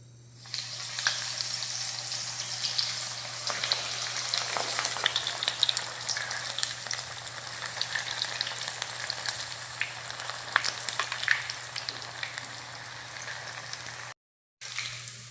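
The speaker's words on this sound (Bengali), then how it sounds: "এবার এক একটা স্টিক আমি তেলের মধ্যে ভেজে নেব।" Paneer sticks deep-fry in hot white oil in a kadai, producing a dense, steady crackling sizzle close by that persists throughout, broken only by a brief cut near the end.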